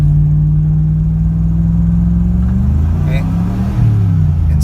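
A 2002 Chevy Tahoe with a shot 3/4 clutch pack rises to redline because the transmission fails to shift into third, giving a loud, steady, climbing drone close by.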